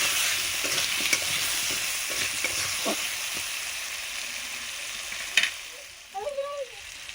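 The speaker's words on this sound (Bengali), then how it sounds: "আলুগুলো ভালো করে ভেজে নিচ্ছি।" Potato pieces fry in oil with salt and turmeric in a Bengali village kitchen, giving a steady sizzle broken by scraping stir strokes, with a brief faint voice near the end.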